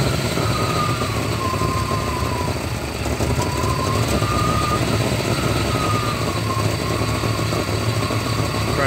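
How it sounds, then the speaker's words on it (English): A 1993 GMC/Chevy 5.7 V8 idles roughly and surges, its steady engine drone chugging unevenly throughout with no talk over it. "and that's when it starts really chugging"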